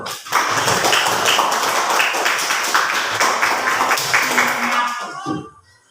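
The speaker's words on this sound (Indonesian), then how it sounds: "tepuk tangan untuk kelompok satu" A classroom group claps for the first team, a dense burst of many hands applauding together for about five seconds before fading out.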